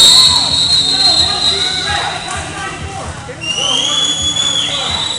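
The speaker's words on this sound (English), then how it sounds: "so lots of whistles." Referee whistles shrill over a roller derby game, long high tones at the start and again midway, heard over crowd noise and commentators talking.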